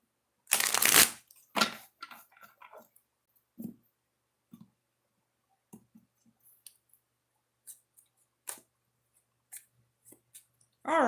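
Oracle cards are shuffled close by, opening with a loud riffle burst followed by scattered soft taps, clicks and card handling amid quiet pauses.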